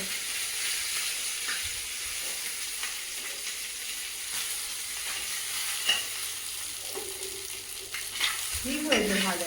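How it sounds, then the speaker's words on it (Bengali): Two bhola fish fry in a pan with oil, giving a steady close sizzle and crackle throughout, with a few utensil clinks and knocks toward the end. "এই দুটো মাছ ভেজে নেব।"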